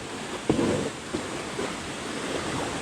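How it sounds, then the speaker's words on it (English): Gokak waterfall, a roughly 180-foot cascade, roars as a broad, steady rush of falling water with occasional wind buffeting on the microphone, loud and continuous throughout. "So this is Gokak Falls."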